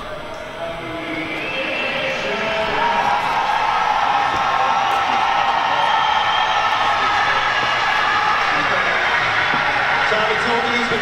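Stadium crowd at the US Olympic trials race in Eugene, Oregon, a broad sustained roar of cheering and whooping that swells after the first few seconds and stays loud throughout, with a voice speaking over it.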